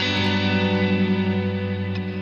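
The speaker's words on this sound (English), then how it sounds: "And this is a really wet reverb." An electric guitar plays through a very wet, shimmery reverb pedal, sustained chords swelling into a dense, ringing wash with a gently pulsing shimmer and long tail.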